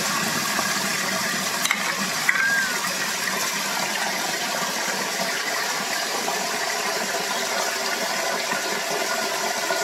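Water draining out of a tub after a hair and loc wash, a steady low gurgling rush that runs continuously, moderately quiet and close, with a couple of brief knocks early on.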